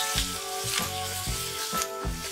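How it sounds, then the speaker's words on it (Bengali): Chopped onion, green chilli and tomato frying in hot oil over a medium flame, giving a continuous close sizzle broken by a regular rhythm of stirring scrapes; no voices. "এগুলো যতক্ষণ না নরম হচ্ছে ততক্ষণ পর্যন্ত একটু মিডিয়াম ফ্লেমে ফ্রাই করে নেব"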